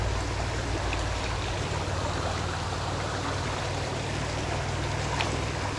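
Creek water flows steadily in a small stream, a continuous close rushing and trickling wash that holds evenly for the whole stretch, with no voices.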